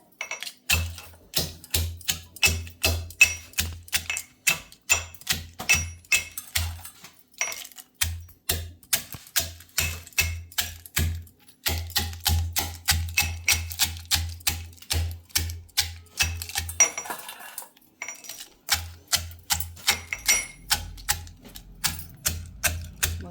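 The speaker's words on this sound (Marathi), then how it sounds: "तर बघा मी हा खलबत्ता घेतला" Crabs are crushed in a stone mortar and pestle (khalbatta) in a home kitchen, a long run of steady, rapid pounding strikes with crunching shell, close and loud, broken by a few short pauses.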